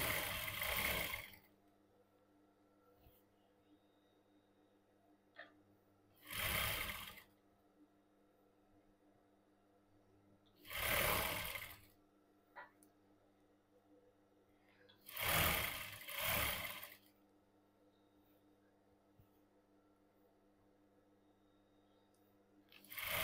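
Domestic sewing machine stitching a cigarette pant back seam, heard as four separate bursts of rapid running needle, each a second or two long, with quiet pauses and a steady low hum between them.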